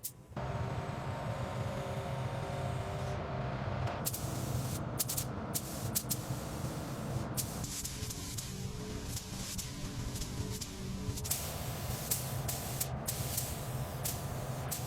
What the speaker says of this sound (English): This gray primer is essential for getting that deep gloss later. We're applying it evenly across the entire bodywork.